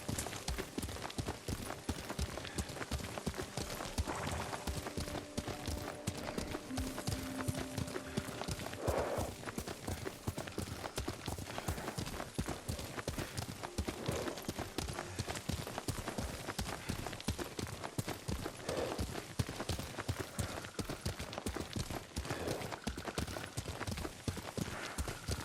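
Rapid, steady clip-clop of horse hooves at a brisk ridden pace in Ghost of Tsushima, continuous and close, with a faint neigh or two among the rhythmic hoofbeats.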